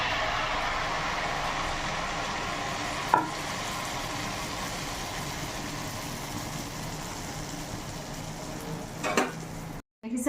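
Pitha rice cakes fry in a pan with a soft, even sizzle that holds steady throughout, broken by a couple of brief clicks, and the sound cuts off abruptly just before the end.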